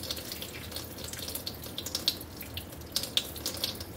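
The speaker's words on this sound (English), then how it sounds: "So you just want to pour slowly so that you're not losing any of the potato starch." Starchy liquid is poured slowly off grated russet potatoes into a sink, producing a steady close trickle and splash with a few brighter drips and spatters.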